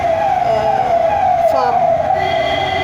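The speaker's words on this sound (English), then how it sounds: "So there is an ambulance passing by." An ambulance siren passes by, its steady wailing tone sliding in pitch as it goes, loud and continuous under a person talking.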